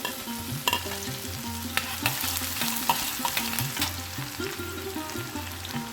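Chopped garlic fries in hot oil with cracked green cardamom and cumin seeds for a dhaba-style keema matar, giving a steady close sizzle broken by sharp spoon scrapes and clinks of stirring.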